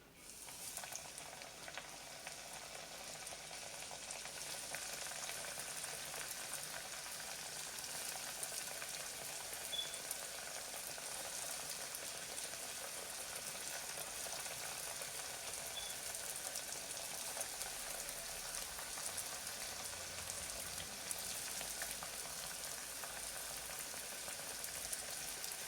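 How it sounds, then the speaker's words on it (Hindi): Shakarpare, sweet flour snacks, deep-frying in hot oil, giving a steady, dense sizzle with fine bubbling that holds evenly for the whole stretch and has no talk over it. "अब हम शक्करपारे फ्राई कर रहे हैं।"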